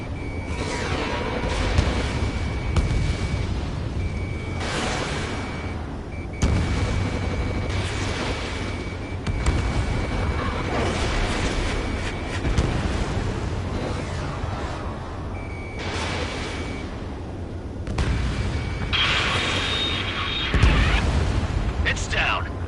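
An explosion as a target is shot down in the Ace Combat video game, with rumbling blasts and booms mixed under music, alarm-like beeps and voices talking throughout.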